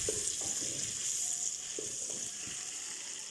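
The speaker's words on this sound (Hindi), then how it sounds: "पहले लहसुन और अदरक को भून के उनकी स्मेल ख़त्म हो जाए, देन हम जो है टमाटर ऐड करेंगे।" Garlic and ginger frying with tomatoes in a pan for methi gosht, a steady close sizzle throughout with a few soft stirring scrapes and clicks, no talking.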